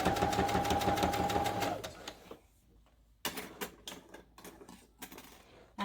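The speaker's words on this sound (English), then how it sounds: "I end again on this line of my sewing machine." A sewing machine stitching a homemade fabric mask, a rapid buzzing run of stitches that stops abruptly, followed by scattered clicks and handling noises close by.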